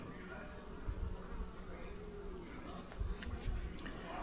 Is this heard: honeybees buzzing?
yes